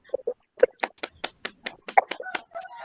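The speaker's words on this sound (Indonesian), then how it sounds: "Mari kita semua tepuk tangan." A classroom of students clapping their hands together, a burst of about a dozen sharp, fairly even claps close by, with no one speaking.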